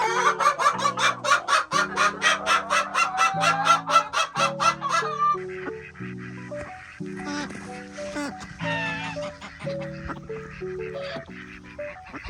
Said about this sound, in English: our first ever goose